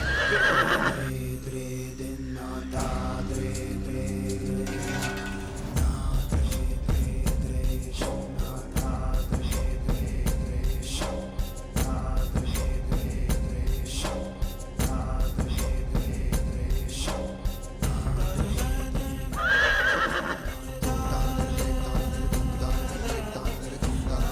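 Horses neighing, with loud whinnies cutting through a dense bed of dramatic music, several calls spread across the stretch.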